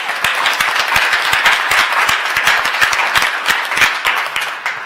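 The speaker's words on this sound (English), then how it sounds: "I think that it deserves an applause." Audience at a college board of trustees meeting applauding, loud close clapping with sharp individual claps forming a dense steady patter throughout.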